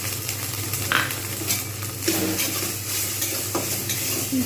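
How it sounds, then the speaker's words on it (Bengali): Okra stirred in a pan with salt and turmeric, a close frying sizzle under repeated scraping and clinking of a spoon against the pan, with no voices. "এবার এসে আমি দিয়ে দেবো লবণ আর হলুদ"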